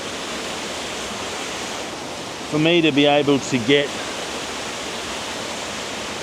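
The Kondilla waterfall, swollen after a massive rainstorm, gives a constant broadband roar of rushing water that fills the scene, and someone speaks briefly over it.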